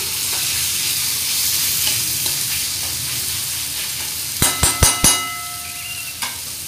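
Onion, tomato and kokum sauté in a pan for a Maharashtrian kalvan, a continuous soft sizzle followed by a quick series of sharp metallic spoon knocks against the pan and one last tap.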